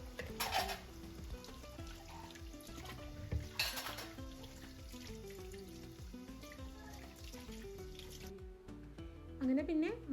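Dishes rinsed under running tap water in a home kitchen in the evening, a steady splashing stream with clinks of plates and pots, heard under other continuous background sound.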